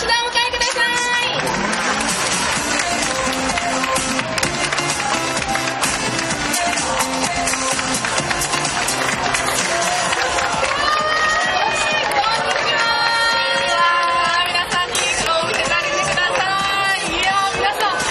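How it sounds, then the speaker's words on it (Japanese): A crowd claps and cheers loudly and continuously to welcome a special guest at a contest final, with a lively hubbub of voices and music mixed in. "拍手でお迎えください"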